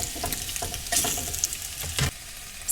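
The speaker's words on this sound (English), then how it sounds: "So I've just put Dan's bacon on the go." Bacon sizzles steadily in a frying pan at close range, broken by several sharp scraping stirs.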